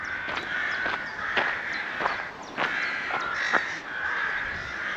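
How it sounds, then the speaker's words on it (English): Crows caw repeatedly in Slapton village, Devon, a busy chorus of loud, harsh calls at irregular intervals over steady outdoor background, some near and some farther off. "Listen to the sound of those birds."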